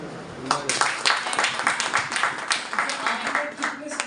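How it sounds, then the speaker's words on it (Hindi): Audience applause at a business training session, a steady run of clapping from many hands filling the room at moderate loudness. "क्या एकदम ताली बजाओ"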